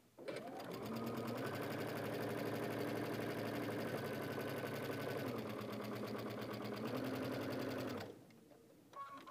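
A sewing machine stitches quilt fabric in a fast, steady mechanical whir with a rapid needle rhythm, loud and close for about eight seconds before stopping abruptly.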